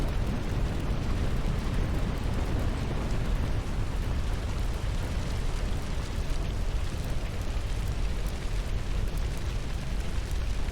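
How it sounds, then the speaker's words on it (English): Nuclear missile explosions in an ICBM video game roar as a dense, continuous rumble, loud and sustained throughout with no clear separate blasts. "2 craters, 2 explosions, 2 everything."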